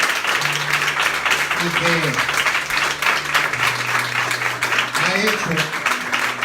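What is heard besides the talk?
church congregation applause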